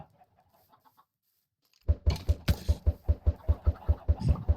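Chickens in the Minecraft video game cluck in a steady, rapid rhythm of short repeated calls after a brief quiet start, loud and close.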